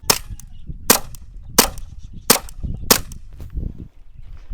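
Five sharp pops from a CO2-powered air gun firing steel balls, spaced roughly evenly about seven tenths of a second apart, close and crisp over a low background murmur.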